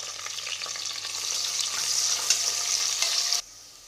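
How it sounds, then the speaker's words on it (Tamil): Onions and green chilies frying in a pan with cloves and fennel for vegetable biryani, a steady close sizzle with occasional stirring scrapes, alone, cutting off sharply near the end. "வெங்காயம் நல்லா வதங்கிடுச்சுங்க."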